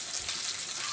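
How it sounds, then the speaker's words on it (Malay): Vegetables stir-frying in a pan with shallots, garlic and belacan, a steady bright sizzle filling the short moment close up, with no talking over it. "Kita kat tumis sayur namanya."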